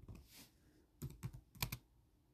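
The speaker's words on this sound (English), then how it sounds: "But I'm going to type it." A few quick clusters of keystrokes sound on a computer keyboard, close but quiet, in short bursts with brief pauses between them.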